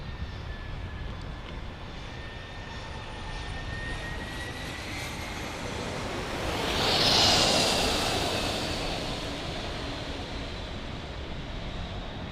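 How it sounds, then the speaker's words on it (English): A Cessna Citation 680 Latitude business jet passes at a plane-spotting site in San Diego, its engine roar building from a distant hum to a loud peak midway before fading again. "what looks like a Cessna Citation here"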